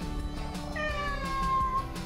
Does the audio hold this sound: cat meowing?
yes